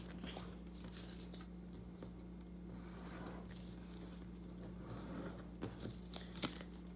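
Paper is creased and folded for an origami dove, faint soft rustles and scraping swipes with a few crisp crinkles near the end, quiet over a low background hum.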